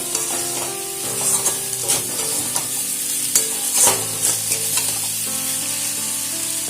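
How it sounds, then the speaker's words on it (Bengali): Flat beans and vegetables stirred with sugar in a pan, a strong sizzle under repeated scraping and knocking of a spoon, close and continuous with no speech. "চিনি দিয়ে খুব ভালো করে নাড়াচাড়া করে নেব"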